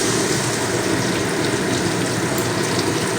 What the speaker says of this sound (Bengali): তো এবার আমি জল দিয়ে দিলাম